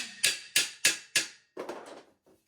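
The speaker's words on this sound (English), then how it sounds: "Take your little chintzy hammer." Four sharp taps of a small hammer on shelf parts in a steady rhythm, close and fairly loud, followed by a few softer, rougher knocks and a faint final tap.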